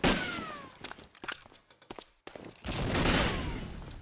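Gunfire in Medal of Honor Allied Assault during a competitive demo match: rapid overlapping shots and thumps in irregular bursts, with a dense stretch of firing at the end.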